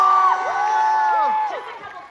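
Comic Con Liverpool audience cheering and whooping for the Cobra Kai cast, a loud close crowd swell with tonal whistles or squeals over it that fades toward the end.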